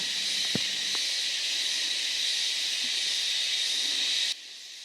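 A loud, continuous high-pitched insect drone fills the forest air near Indrapuri, Aceh Besar, steady and buzzing throughout, with a couple of faint knocks early on.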